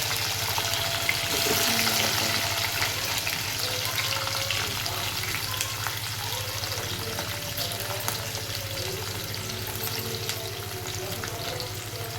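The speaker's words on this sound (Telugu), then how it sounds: "గోల్డెన్ కలర్ వచ్చే వరకు వేగనిక వేసుకుందాం." Cardamom, cloves, a small piece of cinnamon, chana dal and urad dal frying in oil until golden for bendakaaya pulusu: continuous close sizzle with crackling and occasional stirring scrapes, no voices.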